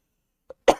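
A single short cough rings out sharply after a tiny faint sound, close and fairly loud, then silence.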